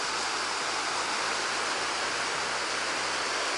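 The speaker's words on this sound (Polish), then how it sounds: "I tu mamy rzekę." Rushing water of a fast-flowing river in Bosnia, a dense steady broadband roar heard close up with no voices over it.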